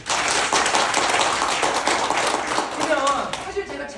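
Seminar audience applauding in a busy crowded clap that fills the room, steady and fairly loud, with voices mixed in as it starts to fade.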